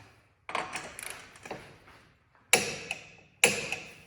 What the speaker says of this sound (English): Then you take the torque wrench. It's 118 foot-pounds.